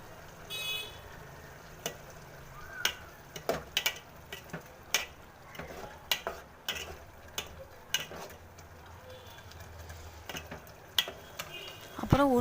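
Coriander and mint are stirred into a white field bean (mochai) curry in a sizzling pan. A spoon scrapes in repeated, fairly regular strokes over a low frying hiss.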